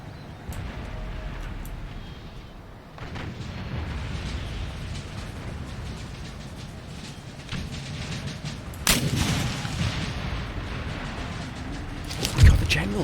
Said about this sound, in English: We'll let these guns continue firing along these lines here.